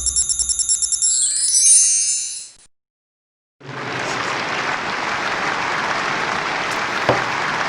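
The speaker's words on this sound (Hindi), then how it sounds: "स्टेडियम में दर्शकों की भीड़ और तालियों के साथ मैच शुरू होने जा रहा है।" A stadium crowd applauds as a chess match is about to begin. Ringing chimes come first, then a pause, then sustained, dense clapping from many hands.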